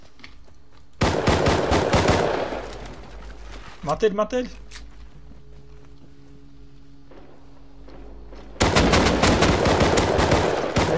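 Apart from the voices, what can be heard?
gunfire in a video game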